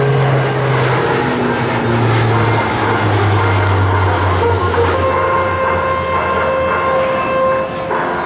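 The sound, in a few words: Lockheed C-130J-30 Hercules aircraft with six-blade Dowty propellers flying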